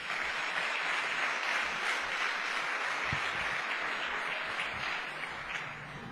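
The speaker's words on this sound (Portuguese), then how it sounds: "Você pode dar uma salva de palmas para o Senhor?" Faint, distant applause from a church audience, a soft continuous patter of many hands lasting several seconds with no talk over it.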